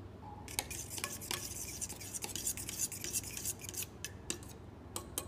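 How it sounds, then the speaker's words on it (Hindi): A yogurt hair pack being mixed in a bowl, with a spoon stirring and scraping against the sides in steady, close, repeated strokes; no one speaks. "ये दही का कोई लंप नहीं होना चाहिए, अच्छा से मिक्स कीजिए इसको।"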